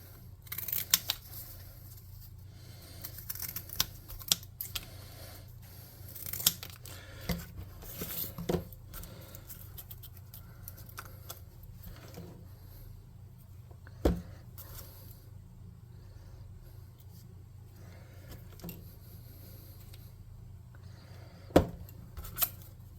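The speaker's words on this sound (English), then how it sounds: "Then we want to get some scissors." Scissors snip through cardboard in scattered, sharp cuts close up over a low steady hum, with irregular pauses between the snips.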